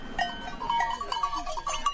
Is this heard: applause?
no